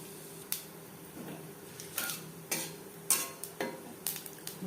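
Whole cumin seeds frying in a little mustard oil for a cauliflower-leaf bharta, a faint sizzle broken by sharp spoon clinks and scrapes against the pan at irregular intervals, with no speech.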